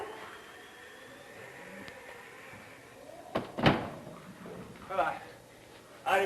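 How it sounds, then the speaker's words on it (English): A door is shut with a single sharp thud in a dim old house interior, standing out from quiet room tone, with a couple of softer knocks or bumps following shortly after. "Shut the door,"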